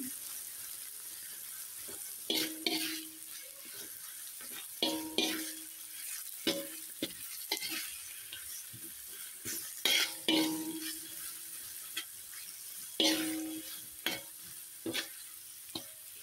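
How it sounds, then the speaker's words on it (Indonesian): Onions sautéing in oil in a pan while cooking a black pepper egg curry, with intermittent stirring clatter and soft sizzling, spatula scrapes and utensil knocks recurring every second or two. "Selanjutnya kita akan tumis pemirsa, minyak lagi dan bawang."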